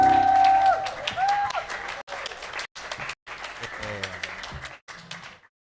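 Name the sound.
children clapping loudly in church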